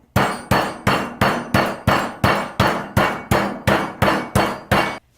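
A toothed meat tenderizer mallet pounds meat thin with about twelve loud, evenly spaced thumping blows in quick steady rhythm, close and alone.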